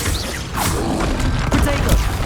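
A Confringo fire spell blasts in Hogwarts Legacy, a dense, loud burst of crackling explosive noise mixed with game effects and a voice shouting spell names over it.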